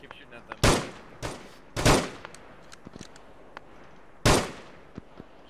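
Gunfire crackles through an Arma 3 firefight, with a few loud, close bursts standing out over scattered quieter distant shots and faint radio-like voices.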